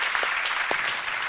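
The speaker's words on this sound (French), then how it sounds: "vous voulez pas qu'on applaudisse Jésus quand même?" A church congregation breaks into brief applause during worship, a dense patter of clapping from many hands that swells and fades within a moment.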